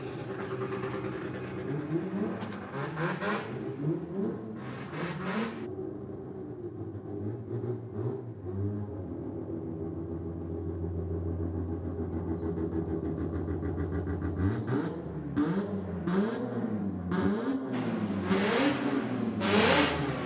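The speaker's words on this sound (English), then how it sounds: "Well, the Audi got the jump over the Nissan" An Audi and a Nissan drag racing at a strip, their engines revving hard and rising in pitch through repeated gear changes, loud and close throughout.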